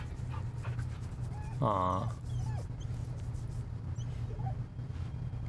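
A dog in the Baldur's Gate 3 video game gives one short whimpering whine, with a person briefly speaking nearby.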